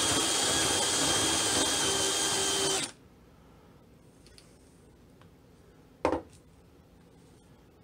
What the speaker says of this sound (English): So I'm actually going to just drill a second one.